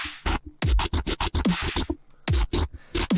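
Riddim-style bass built from burps, with a modulated EQ filter sweeping both frequencies, giving choppy, gritty stuttering bursts in a rapid rhythm and a short gap near the end.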